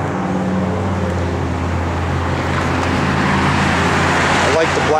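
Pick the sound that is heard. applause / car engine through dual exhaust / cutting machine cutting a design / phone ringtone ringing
car engine through dual exhaust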